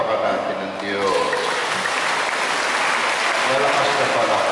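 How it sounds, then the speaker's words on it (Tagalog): A church congregation at a Sunday fiesta mass claps loudly and continuously, a dense, even wash of applause with voices mixed in. "Malakas na palakpak."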